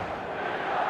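Dense, continuous roar of a large football stadium crowd at an AC Milan vs Malaga match, a broad steady wash of voices swelling slightly toward the end with no distinct commentary.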